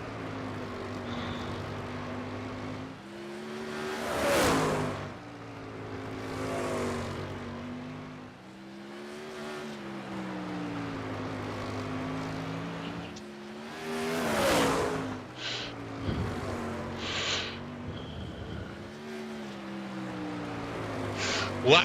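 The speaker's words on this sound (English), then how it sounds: "The number 20 is pulling out onto the speedway" A race car engine drones around Slinger Speedway in iRacing, rising and falling in repeated surges as the car laps the short oval, steady and fairly loud.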